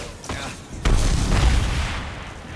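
A mine blows up in the Harry Potter and the Deathly Hallows video game: a weaker thump, then one loud, deep boom that rumbles on for over a second.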